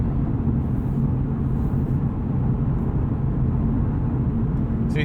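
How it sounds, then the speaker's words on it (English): Michelin Pilot Sport 4S tires on a 2020 Lexus RC F producing steady road noise, a constant low rumble and broadband hiss heard from inside the cabin, unbroken for the whole stretch with no talking. "So you hear these Michelin Pilot Sport 4S's do make a decent amount of road noise."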